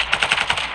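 Rapid video-game gunfire bursts played back through a Logitech G335 gaming headset, a quick rattling string of bright, sharp shots about a tenth of a second apart, loud and alone.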